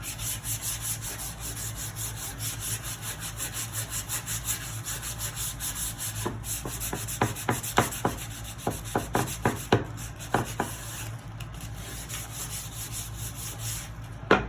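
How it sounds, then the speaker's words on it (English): Sandpaper rubbed over the long top and bottom sides of a wooden carry-all, heard close up as a run of short, rasping strokes in quick succession over a steady background, with no talking. "You want to sand the bottom and the top, which are the long sides."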